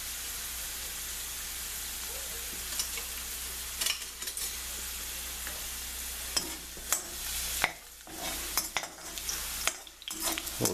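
Broccoli and roasted garlic sizzle and steam in a pan over a high flame, a steady hiss punctuated by occasional scraping stirs and clinks of a utensil, with no talking.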